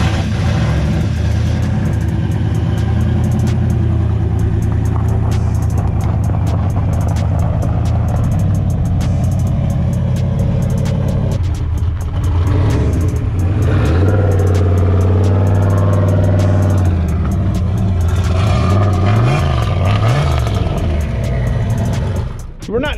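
A loud car engine with a 351W stroker block runs continuously on a dyno, revving up and down with rising and falling pitch sweeps, sustained throughout at close range.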